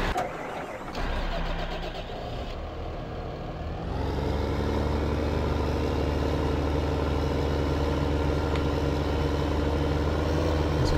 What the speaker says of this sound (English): Let me grab this other tractor over here.